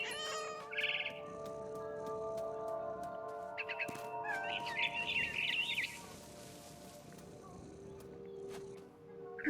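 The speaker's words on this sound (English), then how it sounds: "It was a barn swallow going back to her nest." A barn swallow chirps in short high bursts near its nest in What Remains of Edith Finch, with a soft meow-like call mixed in over a steady ambient game drone.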